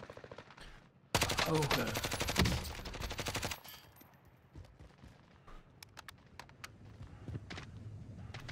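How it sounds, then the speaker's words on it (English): Rapid automatic gunfire in a video game, a loud dense burst of shots lasting a few seconds, then scattered fainter shots and footsteps with a brief spoken word near the start. "Receiving hostile fire."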